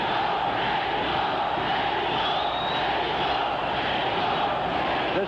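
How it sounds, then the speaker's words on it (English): Partisan Mexican crowd roaring steadily through the seventh round of a boxing title fight, a dense, continuous wall of screaming and cheering that stays loud and unbroken throughout. "Mexico, the partisan crowd screams."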